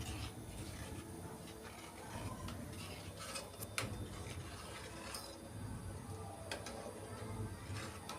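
Paneer kheer made with condensed milk is stirred in a pan, with a steady wash of liquid swishing and occasional light clicks of the spoon against the metal.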